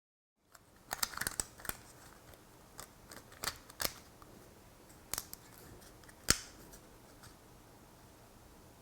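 Scissors cutting thin black plastic to shape fenders for a Lego Jeep build, sounding as a quiet, close series of sharp, irregular snips with pauses between them and no talk.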